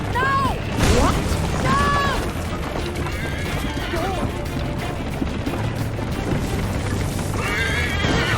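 A horse whinnies loudly several times amid hooves and chaotic game noise from Assassin's Creed III: Liberation (Remastered), with shouted voices mixed in.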